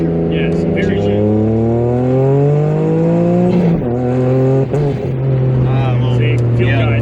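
Suzuki Alto Works RSX kei car engine under load, rising steadily through gears with a turbo recirculation valve surging and fluttering between pulls, loud from inside the cabin, with voices in the car.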